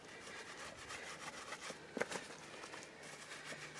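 A lathered brush scrubs across a leather saddle in a soft, continuous rubbing with small scraping strokes, close and fairly quiet, with no talking.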